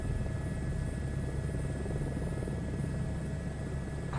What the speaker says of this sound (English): and fly these helicopters